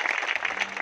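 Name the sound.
audience applause at a church meeting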